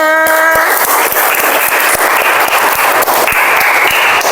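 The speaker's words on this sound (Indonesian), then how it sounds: "Ayo tepuk tangan semuanya" A classroom of students applauding together at the end of an Indonesian language lesson, a steady dense clapping that fills the room, with a brief tonal sound at the start.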